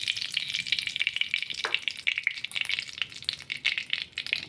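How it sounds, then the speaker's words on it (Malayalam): Oil poured into a hot, drying pan for a snake gourd curry sizzles with a steady, close crackle and spitting that continues throughout, with no talking. "നമുക്കിതിൽ എണ്ണ ഒഴിച്ച് കൊടുക്കാം."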